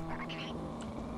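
A cartoonish cat meow from a Garry's Mod prop hunt match, a short rising yowl near the start over a steady electronic hum, with a fainter chirp following.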